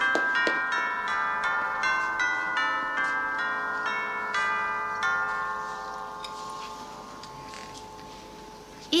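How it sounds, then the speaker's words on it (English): Christmas bells ring in a clear, repeating pattern of bright chimes, resonant tones overlapping and slowly fading, fairly close with no voices. "Hear the bells a ringing, Bill?"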